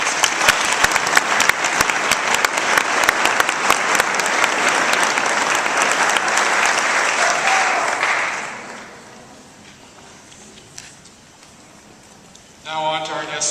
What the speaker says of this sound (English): Give another round of applause to our class.